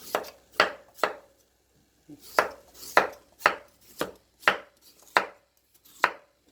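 A knife cuts radish on a cutting board for soybean paste stew in crisp, close, evenly spaced chops, about ten strokes with a short pause after the first three.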